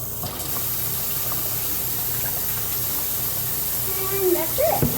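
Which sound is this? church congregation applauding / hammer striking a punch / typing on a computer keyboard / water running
water running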